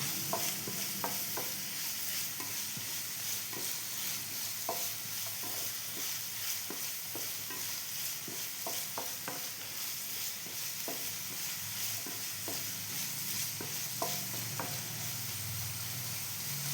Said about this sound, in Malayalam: ഇഞ്ചി നല്ലോണം വറുത്ത് റെഡിയായി വരുമ്പോൾ